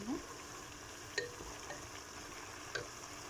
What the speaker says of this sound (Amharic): ትንሽ በዘይቱ ጋር ጠብሰዋለሁ።